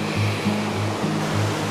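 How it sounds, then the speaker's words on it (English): A small waterfall and the river running beneath a bridge in Sundance Canyon near Banff give off a steady, loud rushing wash of water, with a low droning hum underneath throughout. "there's a sick little waterfall"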